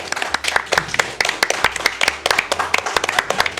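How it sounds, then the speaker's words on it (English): An audience claps steadily and fairly close, a dense run of sharp, irregular hand claps carrying on without a break, with no voices over it. "Thanks for clapping."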